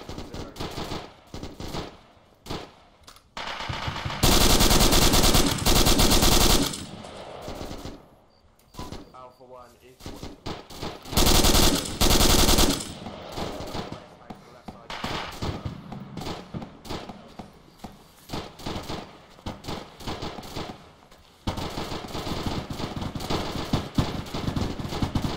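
Suppressive machine gun fire rattles in a military video game, with long, loud automatic bursts and shorter volleys coming near and far, while people talk over the shooting.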